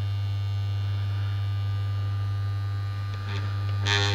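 A Weircliffe bulk tape eraser, a big electromagnet, gives off a loud, steady buzzing hum that holds constant throughout, with faint rustling near the end.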